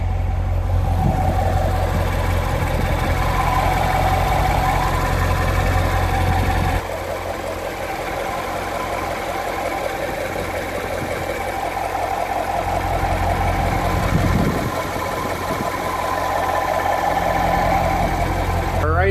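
A C7 Corvette Z51 V8 engine idles steadily before an oil change, with a loud continuous low rumble and a brief dip in level partway through.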